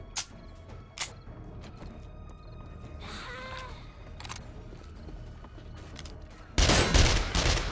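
Gunshots in the zombie survival game 7 Days To Die at a medical facility: a few sharp isolated shots early on, then a loud burst of rapid fire near the end, with quieter game sounds between.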